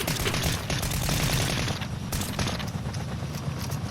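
Dense, rapid automatic gunfire from the Fortnite Battle Royale video game on PS4 rattles continuously and loudly throughout, with no pause.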